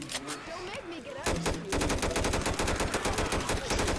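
Rapid automatic gunfire from a helicopter in the zombie shooter Left 4 Dead 2, loud sustained bursts of shots that start after a second of softer game noise and continue steadily to the end.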